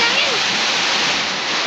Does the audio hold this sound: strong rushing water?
yes